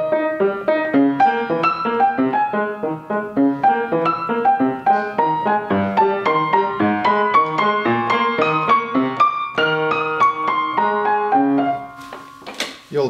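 Beethoven on solo piano from bar 28, the right hand moving freely against the left, a continuous loud flow of notes and chords up close, ending with a brief voice.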